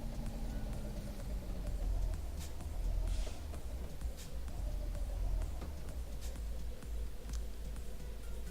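A truck engine running steadily nearby, a continuous low rumbling idle with a faint mechanical whir and a few light clicks and taps over it, no talking.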